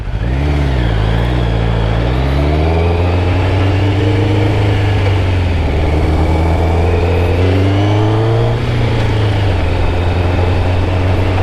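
A 1994 Kawasaki Ninja ZX11 (ZZR 1100) motorcycle engine drones loudly while riding, its pitch climbing and falling through several gear changes over constant wind rush, close and continuous.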